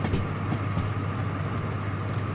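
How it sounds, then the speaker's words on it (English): A DM3 diesel locomotive pulling a heavy train in the Derail Valley simulator game, a steady low engine drone with a faint high whine and occasional soft rail clicks, continuous and even, with no talk. "Over-revving the engine is a no-no in this DM3, because you will blow the gearbox or the engine"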